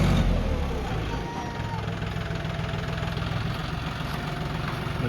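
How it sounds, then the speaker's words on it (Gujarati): A parked farm tractor idles with a steady, low, throbbing engine rumble. The rumble is moderately loud and runs unbroken through the whole stretch, slightly stronger at the start. "આ જોઈ લો ટ્રેક્ટર આપણું હેડેલું છે."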